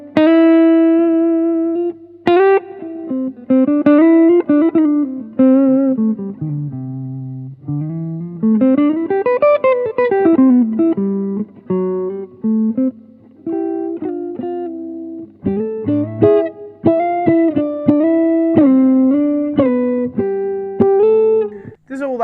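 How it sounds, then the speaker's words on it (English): Electric guitar plays a melodic run of single notes and bends, clean and resonant with a warm, hollow tone, up close and continuous. "Even though it has a very hollow kind of sound, and I'll demo that to you now"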